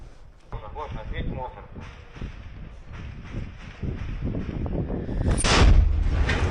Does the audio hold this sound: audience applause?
no